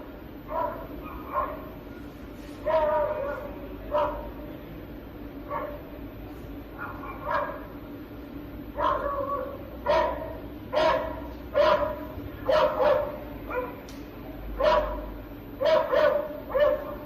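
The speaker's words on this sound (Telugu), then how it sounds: "ఓ వృద్ధురాలిపై వీధి కుక్కలు దాడి చేశాయి." Street dogs bark repeatedly during an attack on an elderly woman, sharp clustered barks and yips coming in bursts throughout, fairly close and loud over a steady background hum.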